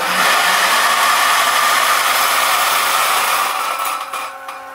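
Option-O Lagom 01 coffee grinder grinding coffee beans, a loud, steady, close-up whirring grind with a metallic rattle that runs for several seconds and then begins to fade toward the end.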